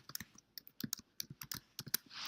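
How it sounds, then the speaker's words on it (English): Quick bursts of typing on a computer keyboard, irregular clusters of crisp close key clicks with short pauses, ending in a brief soft hiss, no talking. "I usually type in the top bar, or you can type in here"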